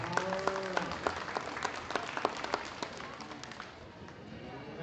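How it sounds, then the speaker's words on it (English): A crowd at a youth cattle show claps for young exhibitors, a patter of many hands that thins out and fades, with a few louder claps standing out near the start. "Let's give these young exhibitors a nice round of applause."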